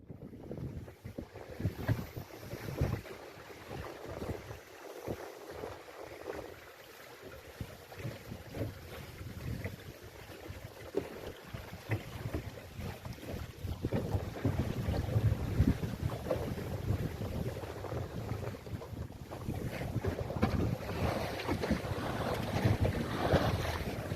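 A small dinghy motors along the water toward the marina and boat ramp at Port Lincoln, a low continuous engine drone mixed with heavy wind buffeting on the microphone and lapping water, with no talking.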